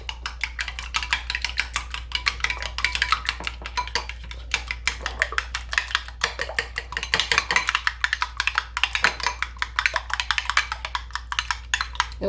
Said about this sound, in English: And this is 3 tablespoons of melted butter. And I'm just going to mix this up.